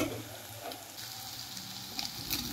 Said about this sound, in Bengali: ভালো করে মশলার সঙ্গে কষিয়ে নেব।